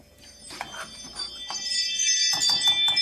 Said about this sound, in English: Y'all hear the little chime in? That's just my bell.